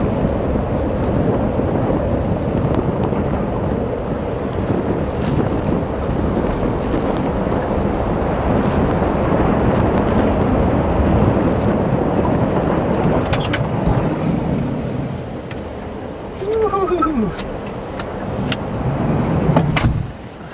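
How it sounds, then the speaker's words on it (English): Wind driving snow across a van camp during a winter blizzard, a steady loud roaring rush with gusty swells that dips briefly near the end, continuous throughout without talk. "The snow's blowing hard."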